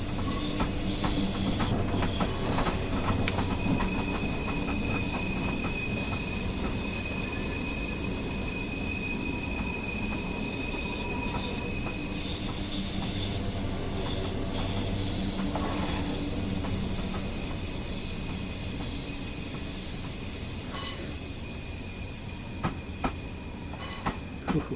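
A train in Train Simulator Classic rolls steadily, a continuous loud rumble and hiss with faint rhythmic wheel clicks and occasional squeal, running alone without talk for the whole stretch.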